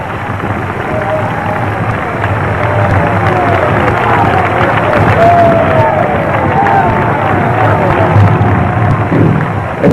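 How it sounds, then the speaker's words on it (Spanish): A church congregation at an evangelical service in 1997 applauds and cheers together, a loud, steady wash of clapping and voices that holds for the whole stretch, with shouts rising above the crowd noise. "Dele aplauso al Señor."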